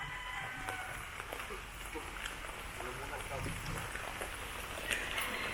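Heavy rain pours steadily across a rural Philippine setting, a dense continuous hiss with scattered drips, and faint farm animals and distant voices mixed underneath.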